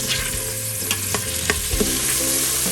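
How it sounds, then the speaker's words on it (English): Portobello mushrooms tossed and stirred in oil in an Instant Pot, with a steady close sizzle and scattered scraping clicks and knocks from stirring, no voices. "So we're going to toss these portobellos and get them all nice and covered in the oil."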